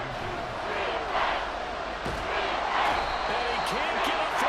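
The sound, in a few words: stadium crowd noise at American football game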